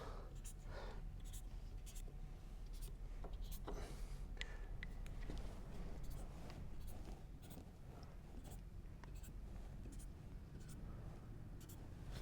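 A Sharpie marker squeaks as it draws quick check marks on wooden boards, with short, faint scratchy strokes repeating over a low room hum.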